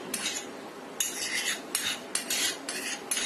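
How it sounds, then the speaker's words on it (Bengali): A spoon scrapes and clinks against a bowl in quick, uneven bursts as marinated chicken is stirred together with tomato sauce, close and fairly quiet, with no talking. "এখন ভালোভাবে মিশিয়ে নিতে হবে।"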